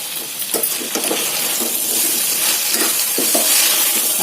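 Cut potatoes for a potato curry fry on a high flame, sizzling and hissing steadily in hot oil while a spoon scrapes and stirs them in short bursts at close range.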